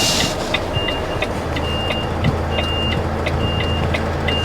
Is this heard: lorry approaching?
yes